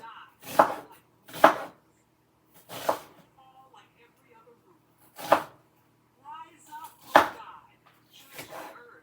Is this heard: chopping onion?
yes